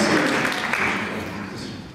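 Applause from the audience at a future leaders forum, a dense, steady wash of clapping that stays fairly loud and gradually thins toward the end.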